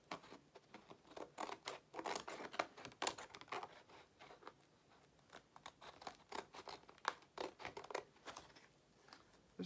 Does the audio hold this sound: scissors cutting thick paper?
yes